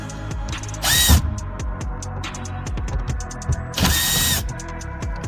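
A power driver or ratchet takes out the upper outer screws of a car's center console, with two short loud whirring bursts and scattered clicks and ticks of tool handling between them.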